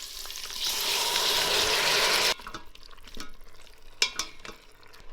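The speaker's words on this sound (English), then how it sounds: "Now we're gonna add the pork shoulder cubes" Pork shoulder cubes drop into a hot pan for Hungarian pork and sauerkraut, setting off a loud, dense sizzle that cuts off abruptly, followed by quieter scraping and stirring clatter nearby.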